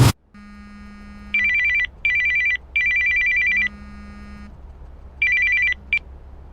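A telephone rings in repeated electronic bursts, three close together, then a pause and a shorter burst, loud and clear with no talking.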